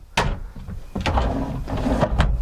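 Deep bedroom drawers in a 2014 Thor Four Winds 31F motorhome slide and bump shut, giving several quick close knocks and rattles in a small interior.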